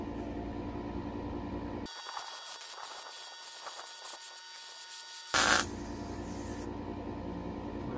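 Tack welding on steel angle for a farm trailer ramp, heard as a few seconds of harsh buzzing crackle over a steady electrical hum, ending in a brief louder burst, close and without talk.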